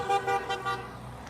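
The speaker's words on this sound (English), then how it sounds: "And this car is honking right at the corner of the building." A car horn toots three quick times in a row, fairly close, then the street falls quieter.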